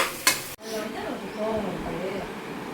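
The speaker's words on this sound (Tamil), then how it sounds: "வெங்காயம் நல்லா வதங்கட்டும்" Sliced onions for prawn biryani sautéing in a pan, a soft continuous sizzle after a brief clatter at the start, with faint background voices.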